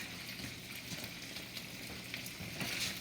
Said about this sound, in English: give that a stir for me